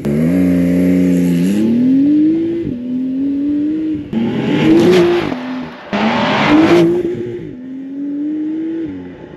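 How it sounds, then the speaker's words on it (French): A Porsche 911 (992) Carrera S Cabriolet's flat-six with sport exhaust and particulate filter revs up repeatedly from idle, three rising throttle blips with gruff crackling peaks, close and loud, settling back to a steady idle between each. "Échappement, sport, obligatoire."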